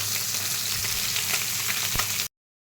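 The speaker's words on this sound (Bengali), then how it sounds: "মাছ ভাজা হয়ে গেছে, মাছ তুলে নেওয়া হচ্ছে" Fish frying in hot oil in a wok gives a loud, steady sizzle with soft spattering crackles for about two seconds before it cuts off abruptly.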